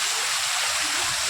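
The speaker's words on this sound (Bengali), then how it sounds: "দেখো জলের ফোয়ারা উঠছে, দেখো।" Water fountain spraying in a park at a dam, a steady loud hiss of falling water that stays even throughout, with no voices.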